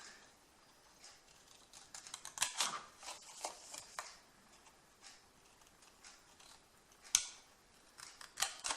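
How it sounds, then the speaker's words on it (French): Scissors snip through scrapbooking paper, cutting straight to a fold line for a small candle or gift box, with quiet, irregular crisp snips and rustles, a few sharper cuts standing out. "on prend et on coupe droit jusqu'à la ligne de pli"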